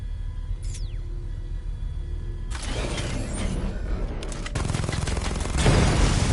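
Rapid, rumbling chain gun fire from the Batmobile in Batman: Arkham Knight, sustained loud mechanical bursts over a low engine rumble, growing heavier toward the end, with no talking.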